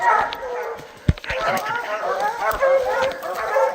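A hunting dog barks during a bear hunt in Maine, short yelps and bays mixed in with people talking outdoors, the barks fairly close but partly buried under the voices.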